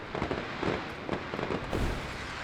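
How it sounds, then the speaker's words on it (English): Fireworks burst in the Space Engineers game, with a dense run of crackling pops and bangs in rapid, uneven succession, loud and continuous throughout. "So if we do get hit, the firework goes off and we take a little bit of damage."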